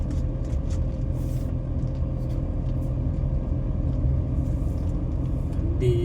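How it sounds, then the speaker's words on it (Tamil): A vehicle labors up a steep road, a steady low engine rumble heard from inside with faint rattles and a brief higher whine near the end. "நெட்டு குத்தா ஏறுது நேயர்களே வண்டி."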